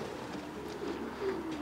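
Pigeons at a European breeding centre coo softly in short, low murmuring phrases, fairly quiet and close, with no talk over them.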